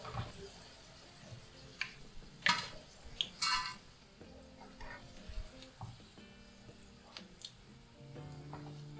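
Garlic cloves and curry leaves fry in hot oil for a Kerala spicy mixture, giving a soft steady sizzle broken by sharp crackles and pops, with faint clatter of a utensil in the pan.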